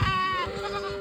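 A goat gives one loud, close bleat, a wavering nasal cry that fills most of the brief moment.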